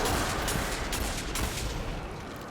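Grenades exploding in Destiny 2, a dense, loud burst of blasts and crackling gunfire-like bangs packed together over a couple of seconds, no voices.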